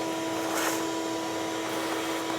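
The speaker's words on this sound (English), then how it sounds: "It's just vacuuming." A vacuum cleaner runs nearby with a steady, loud motor whine and airy roar that holds unchanged for a couple of seconds, with no voices over it.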